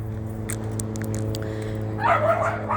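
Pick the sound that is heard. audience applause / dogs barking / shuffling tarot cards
dogs barking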